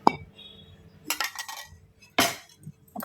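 A spoon clinks and scrapes against a dish while mixing vanilla custard powder, giving a few short bright taps followed by two longer bursts of scraping, fairly close and with no talk over it.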